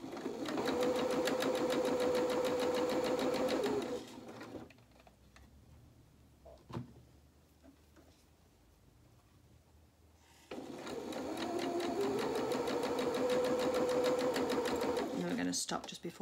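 A sewing machine stitches a lace seam on French knickers in two loud, steady runs of rapid needle chatter, separated by a quiet pause with small handling clicks.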